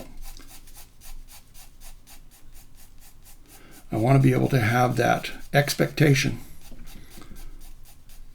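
A Koh-I-Noor graphite pencil scratches across paper at an angle with steady pressure, giving repeated short strokes, and a person talks over the middle of the drawing.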